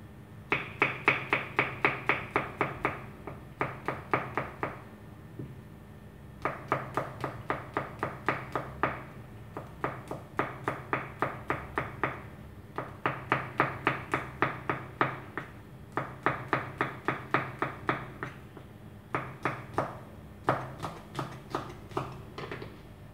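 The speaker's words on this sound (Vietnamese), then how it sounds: "Bây giờ ta bắt đầu đi băm tỏi ớt." Garlic and chili are minced with a knife on a cutting board, a long series of rapid, crisp chopping taps in bursts with short pauses between them, close and clear.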